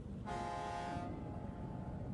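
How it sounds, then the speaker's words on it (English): A pilot boat's whistle gives one steady, clear toot of under a second over low rumbling background, moderately close, followed by a fading tonal tail. "the tugs heard Petra the pilot boat whistle for them"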